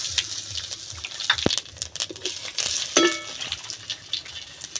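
Bay leaf, cumin and dried chili dropped into hot oil for a fish curry, a light crackling sizzle with scattered spoon and pan clinks, close and moderately quiet.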